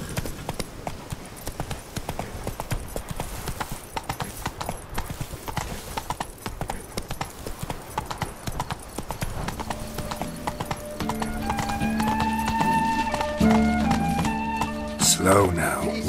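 Video-game horse hooves gallop in a steady clip-clop throughout, joined near the end by a short whinny and tonal game sounds.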